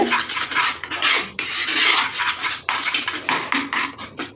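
A thick paste of dried henna leaf powder is stirred in a bowl, giving repeated scraping and clinking strokes in an uneven rhythm, close up, with no voices.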